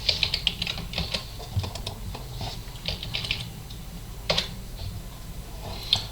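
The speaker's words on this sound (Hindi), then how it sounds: "और यहाँ मैं टाइप करता हूँ" Typing on a computer keyboard while entering text into a browser during a FortiGate firewall setup, with quick, uneven clusters of close key clicks and brief pauses, no talking.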